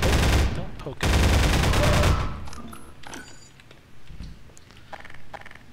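Gunfire from a weapon in the video game Half-Life 2: two loud, dense bursts of rapid shots near the start, each about a second long, then quieter scattered game sounds trailing off.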